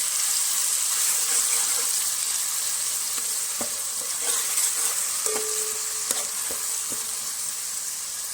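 A paste of ginger, garlic, green chili and coriander fries in hot oil for a Goan crab curry. A loud, steady sizzle hisses throughout, with a few faint taps and clicks from stirring.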